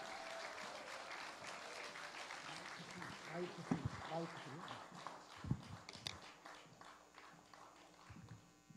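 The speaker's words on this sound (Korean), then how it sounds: "큰 박수로 환영해 주시면 감사하겠습니다" An audience applauds to welcome a married couple taking the stage to lead a marriage-restoration seminar at a church gathering, with steady clapping throughout and scattered voices and thumps mixed in.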